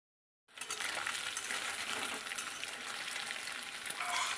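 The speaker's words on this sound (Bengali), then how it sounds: "হালকা করে ভেজে নেব পনিরটাকে খুব বেশি কড়া ভাজবো না" Paneer pieces fry lightly in a pan of oil, giving a steady close sizzle that starts abruptly after a short silence and holds with faint crackles, no talking.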